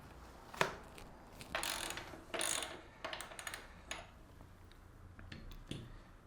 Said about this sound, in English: let's loosen the axle nut off